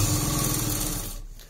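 A sewing machine stitching the folded hem of Bermuda half pants, a close, fast mechanical whir that runs steadily, then stops abruptly near the end, with no talking.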